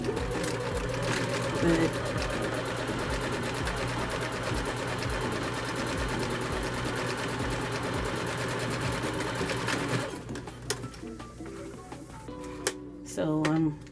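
A sewing machine runs steadily with a fast, even mechanical stitching rhythm while stitching an apron with black thread, close and loud for about ten seconds before stopping, followed by quieter handling noises and a brief spoken word.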